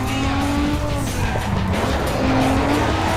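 A McLaren MP4-12C races in the Need for Speed Underground 2 video game, its engine droning loudly as tires squeal and skid in long drawn-out screeches.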